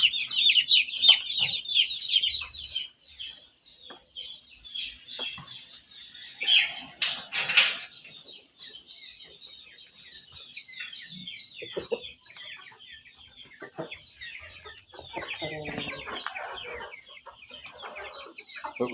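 Chickens cluck steadily in a pen, a busy, overlapping chatter of several birds that swells briefly near the middle and keeps going throughout.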